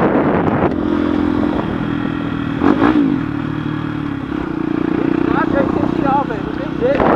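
Motorcycle fitted with a new aftermarket exhaust, its engine running loud and close with a steady droning note and a short rev partway through, while people talk over it.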